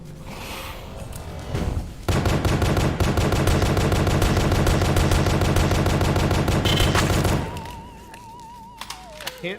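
Rapid gunfire in The Pony Factory, an indie horror video game, a sustained burst of loud repeated shots lasting about five seconds after a few heavy thuds, then cutting off to quieter game sounds.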